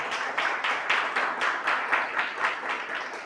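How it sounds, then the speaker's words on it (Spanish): A church congregation claps in strong rhythmic bursts, about a dozen regular beats of loud, close applause with no voices over it. "déle el aplauso al Señor, déle fuerte"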